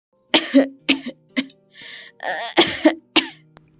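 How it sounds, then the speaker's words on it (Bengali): A series of loud, close coughs in quick bursts, about eight in all, with brief pauses and a hoarse throat-clearing quality. "তোমার কাশিটা বড্ড বেড়েছে"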